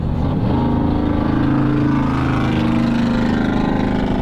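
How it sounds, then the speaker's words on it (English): Pickup truck engine heard from inside a Ford Mustang Mach-E on the road, a loud, steady low drone that holds constant for several seconds with no talk. "That's an awful lot of sound coming out of that truck to go an extra 3 or 4 miles per hour."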